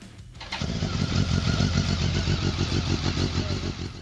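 A BMW K1600 GT touring motorcycle engine starts after a brief quiet moment, then settles into a loud, close, rhythmic idle with a steady pulsing beat.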